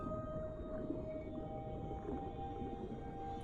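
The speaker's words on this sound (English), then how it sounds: "Looks like some young dolphins are having a play date." Young dolphins calling underwater in the video game Beyond Blue, with a sustained tonal whistle over a low murky underwater rumble and faint chirps, no voices.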